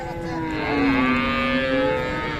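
A Friesian cow at a busy cattle market in Raniganj, Dinajpur lets out one long, close, drawn-out moo that swells and fades over a couple of seconds.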